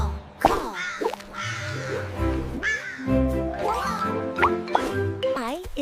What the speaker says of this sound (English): H is for hooded crow.